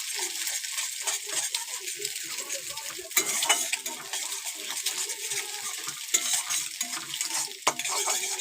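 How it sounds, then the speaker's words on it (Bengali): A spatula scrapes and stirs a cracked egg frying with browned onions and green chilli in a karahi, a steady soft sizzle under repeated metallic scrapes and a few sharper clinks against the pan. "ডিমটাকে ভালো করে নাড়বো"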